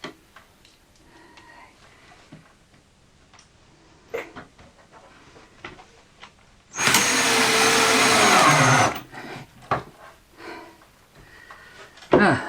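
A power drill or driver sends screws into a storage build for camping gear, giving one loud, steady whirring burst of about two seconds amid quieter workshop clatter and faint knocks.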